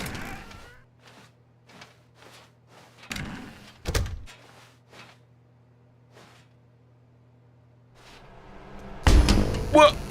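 Doors in the video game The Stanley Parable, with a few sharp thuds near the middle and a louder bang and rumble at the end over a faint steady hum, with no talking.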